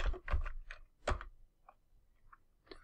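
Typing on a computer keyboard to enter a web address, a handful of close, crisp key clicks in an irregular burst, then a few fainter, sparser taps, quiet and without talk.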